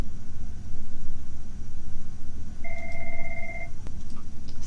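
A mobile phone rings briefly with a single steady electronic tone, mid-distance, over a continuous low rumbling hum like an idling engine.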